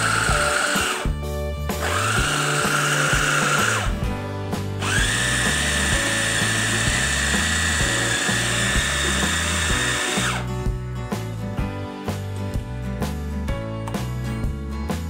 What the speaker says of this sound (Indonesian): Lalu giling menggunakan chopper daging ayam dan bawang-bawangannya tadi sampai halus.